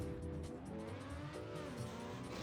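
A racing car engine in the TrackMania United Forever video game, a loud, steady droning whine with shifting pitch that carries without pause for the whole stretch.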